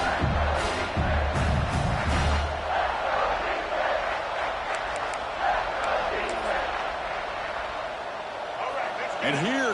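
Dense stadium crowd roar at a South Carolina college football game, steady and loud throughout as fans rally the defense for a red zone stop, with scattered shouts and whoops rising from the mass of voices.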